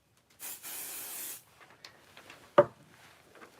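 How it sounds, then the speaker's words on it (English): Pixie spray adhesive misted onto a Best China stencil in two quick hissing bursts, the second one longer, close and fairly loud, followed by faint rustling and a single sharp tap. "I'm going to just put a little bit of pixie spray on that"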